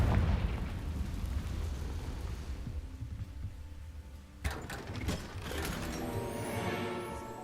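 A Confringo fire spell explodes in Hogwarts Legacy, a loud burst cutting through steady rumbling game ambience, followed by a crackling, ringing blast tail and layered effects.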